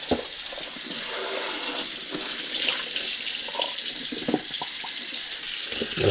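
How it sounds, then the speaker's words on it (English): Tap water runs into a kitchen sink as a raw bone-in pork butt is rinsed, a steady close splashing stream with shifting spatters as the meat is moved, no talking. "I'm going to rinse this off a little bit here."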